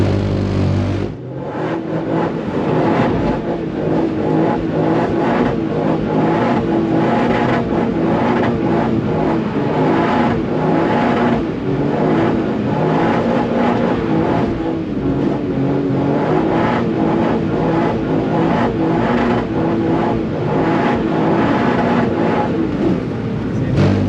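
Toyota GR Yaris drifting, its engine a loud, sustained drone with rhythmic surges and pulses as throttle is worked, continuous and close for the whole stretch.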